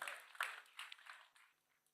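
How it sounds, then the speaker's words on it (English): Brief scattered clapping from an audience, faint and thin, a few quick claps trailing off within two seconds. "round of applause for Christina"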